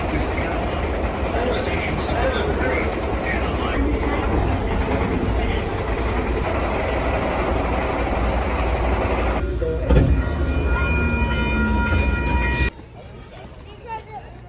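Train ride with continuous rail carriage rumble and rattling, loud and steady for most of the stretch, with people talking over it, before the noise drops away abruptly near the end.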